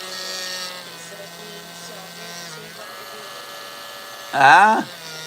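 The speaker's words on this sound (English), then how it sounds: "right now I'm drilling little micro holes into this new backbone that I built" A small drill motor whines steadily with a faint high hum while drilling tiny holes into a handmade paper backbone, then a short voice rises briefly near the end over the buzzing.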